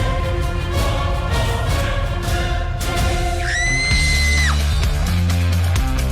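A man lets out a long, loud, sustained yell in a studio, rising then holding steady before cutting off, over a dense, noisy background with music-like tones.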